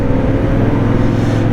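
CF Moto 450 MT motorcycle on a test ride, its engine droning steadily at close range with a low, even hum and no voices over it.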